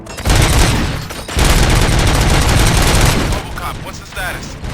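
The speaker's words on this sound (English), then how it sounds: "Gunshots? What's going on?" Gunfire in the video game RoboCop: Rogue City, loud dense bursts of rapid shots that stop briefly, resume in a sustained barrage, then thin out into scattered shots near the end.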